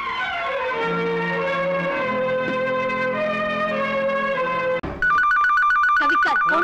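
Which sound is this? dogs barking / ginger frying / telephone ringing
telephone ringing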